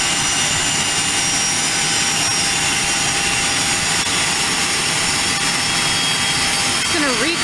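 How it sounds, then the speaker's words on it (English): Airplane engines starting up at Aurora Municipal Airport, heard as a loud, steady roar with a rising whine that continues throughout, joined near the end by faint voices. "Okay, there she goes. Engines have started."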